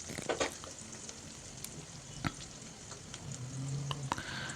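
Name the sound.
stirring onions frying in a pan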